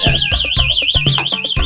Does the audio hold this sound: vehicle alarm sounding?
yes